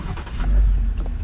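A car engine starts and revs low, with a rising rumble as the vehicle pulls away, close and fairly loud, with no talking.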